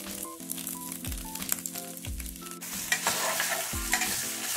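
Smoked pork chops fry in a pan while being stirred, giving repeated scraping and clattering strokes over a steady sizzle, close and fairly loud.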